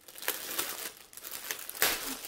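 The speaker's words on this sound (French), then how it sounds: "ça, c'est venu dans un grand sac plastique." A large plastic bag crinkles and rustles in irregular bursts close up, with a louder crumple toward the end.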